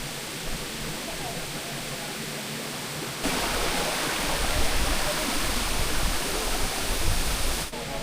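A steady, roaring rush of water falling at a waterfall in Laguna, Philippines fills the scene, loud and continuous, growing a little stronger partway through.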